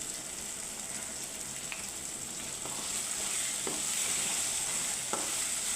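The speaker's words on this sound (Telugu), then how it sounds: "గరిటెతో కారపొడి బాగా మిక్స్ అయ్యే విధంగా కలుపుకోవాలి" Chilli powder being stirred into chicken curry with a ladle, a steady sizzle and frying hiss with a few light scraping strokes of the ladle against the pot, close and continuous, no voices.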